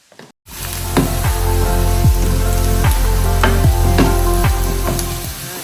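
Kanjirappally-style beef fry is stirred in a hot pan, giving a loud, close, steady sizzle with regular scraping strokes of the spoon about every half second, and no talk.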